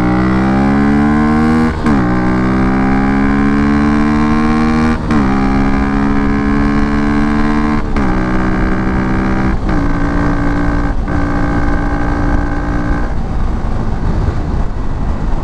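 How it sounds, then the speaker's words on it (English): Loud motorcycle engine under hard acceleration, its whine climbing and then dropping sharply at each of five or six quick upshifts, close and continuous with no talking. "this bike runs very well"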